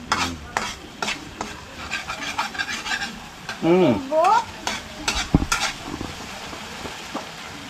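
Shrimp paste is stirred and fried with onion and garlic in a pan, with loud sizzling under repeated scraping strokes of a utensil against the metal. The sound is close, and there is no talking.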